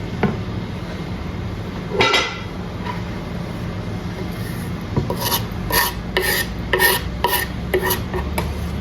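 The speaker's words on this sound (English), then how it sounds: "And I'm gonna mix this with the pasta right now." A spoon scrapes and stirs pasta through thick cilantro sauce in a pan, with rasping strokes, a clack near the start and a run of rhythmic scraping bursts toward the end over a low steady hum.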